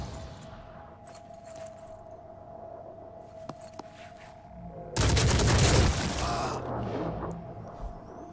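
A gunfire exchange in the tactical game Phoenix Point: scattered faint clicks and thuds, then a sudden loud burst of firing around the middle that rings and fades into lingering noise.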